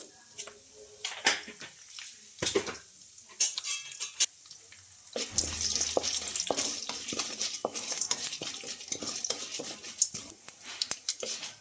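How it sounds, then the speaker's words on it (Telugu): Chana dal, cumin and mustard seeds frying in hot oil for a tiffin dish: sparse clicks and taps at first, then a dense close crackle of popping seeds and a spoon stirring, with a voice speaking at times. "ఇంకా ఆయిల్ హీట్ అయిన తర్వాత అయితే కొద్దిగా శనగపప్పు అలాగే జీలకర్ర ఆవాలు"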